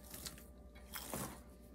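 Crackers are bitten and crunched up close, making a few short, crisp crunching bursts at a quiet level with no talking.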